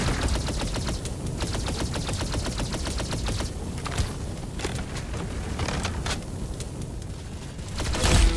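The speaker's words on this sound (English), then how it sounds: "That's some beautiful shooting right there." Rapid bursts of automatic gunfire from the Roblox Arsenal shooter game, a steady rattling stream of shots through most of the span with a few louder single cracks, close and loud with no talking.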